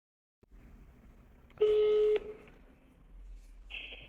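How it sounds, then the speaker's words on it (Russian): Telephone dialing tones sound while a call is placed to a property company in Argentina: a steady half-second tone, then a shorter beep after a pause, with a quiet line hum behind. "Сейчас я еще позвоню. Чик, чик. Телефон. Звоню."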